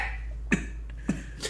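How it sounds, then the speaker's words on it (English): Two short, close coughs, one wet and one dry, spaced about half a second apart over a faint background hum, with quiet between them. "That was the rare, both wet and dry cough"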